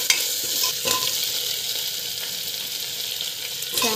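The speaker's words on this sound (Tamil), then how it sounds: "டொமாட்டோ ஆட் பண்ணி நல்லா வந்து வதக்கிட்டுக்கோங்க." Tomato sautéing with asafoetida and rock salt in a pan, a continuous close frying sizzle broken by repeated scraping stirs of a spoon, loud and alone without any voices.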